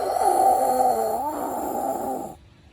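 A voice imitates a dog snoring: a drawn-out nasal, moaning snore for about two seconds, rising and dipping midway, then breaking off into near silence.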